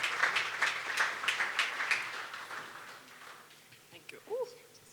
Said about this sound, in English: Let's give her a warm round of applause as she comes up on stage.